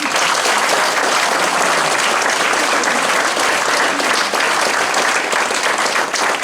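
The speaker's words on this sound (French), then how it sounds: "On peut les applaudir." A crowd applauds firefighters at a civic gathering, loud, dense and sustained clapping that stays even throughout, close and unbroken with no talk over it.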